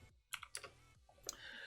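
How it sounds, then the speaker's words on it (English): Typing on a computer keyboard during a fantasy football live stream, a few sharp key clicks in short bursts, close and fairly quiet, with no speech. "My typing is awful at the moment."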